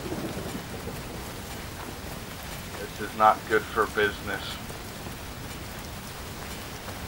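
Steady rainfall in the video game Watch Dogs, a constant hiss of rain on surfaces throughout, with someone speaking briefly over it midway.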